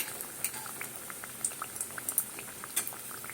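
Veg paneer puffs fry in oil over a low flame, giving faint, scattered pops and light crackles with a soft bubbling hiss throughout and no talking.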